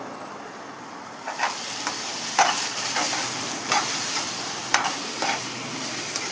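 Turmeric being stirred into raw mango frying in a pan for pulihora, with a steady sizzle underneath and periodic scraping strokes of a spoon against the pan, close and continuous.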